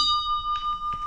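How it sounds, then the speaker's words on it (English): Newly repaired bicycle bell on a bike ride along the Katy Trail, rung twice in quick succession with a bright, sustained metallic ting that rings on. "Here we go. Ready? Bell ring."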